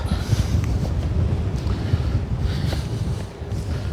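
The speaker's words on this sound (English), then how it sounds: "Sorry about the wind." Gusting wind buffeting the microphone at Kingston upon Hull's old fish dock, a rough continuous roar with small bursts, no speech heard.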